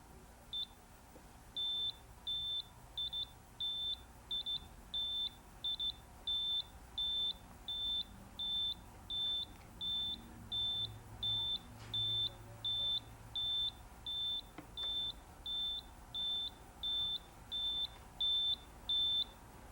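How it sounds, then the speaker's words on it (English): A Brother KH-930 knitting machine gives a long run of short, evenly spaced high beeps, about two per second, as the carriage crosses a row, clear over a quiet background hum. "what you will hear as it goes across is a solid beep for the white spaces"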